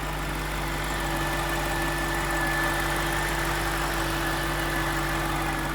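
A supercharged BMW engine running at steady idle, with a constant low hum and a faint whine above it, even and unchanging throughout, with no talk.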